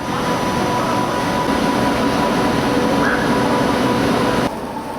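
Train rolling into Zagreb station on a Balkan rail journey, a loud steady rumble of wheels and carriage noise heard from inside, holding level before dropping off abruptly near the end.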